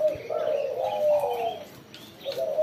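A spotted dove (tekukur) coos in soft repeated phrases, close and clear, with faint chirps from other birds in the background.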